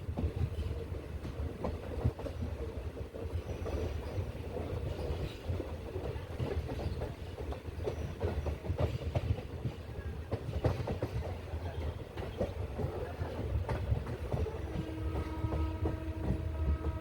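A train runs steadily on the scenic Kollam to Chenkotta line near Thenmala in Kerala, its continuous rumble and rhythmic clickety-clack of wagons rolling along for the whole stretch without speech.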